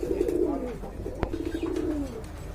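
Two big pigeons coo nearby in low, rolling throaty phrases, one drawn-out call followed by another after a sharp tap.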